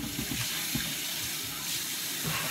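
Cold water runs steadily from a kitchen tap over raw chicken being washed, a continuous close hiss and splash with faint irregular patter from the meat, no voices.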